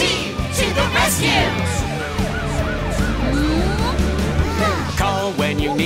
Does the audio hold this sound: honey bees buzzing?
no